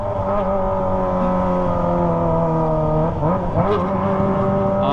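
Kawasaki ZX25R motorcycle with a loud aftermarket TOCE exhaust held near the rev limiter, a steady high-pitched multi-cylinder scream that stays loud and close throughout, with a brief dip and surge near the end.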